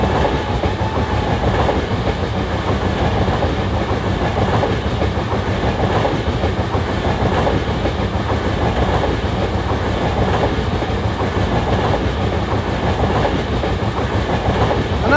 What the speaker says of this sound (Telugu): ఆ ట్రైన్ అయితే వెళ్ళిపోతుంది చూడండి